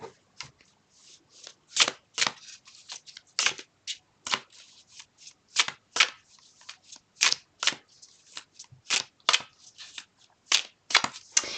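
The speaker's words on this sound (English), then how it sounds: "so I'm just going to start shuffling." A tarot deck is shuffled by hand in a sequence of crisp, close riffles and soft card slaps in a fairly even rhythm, with short pauses between and no voices.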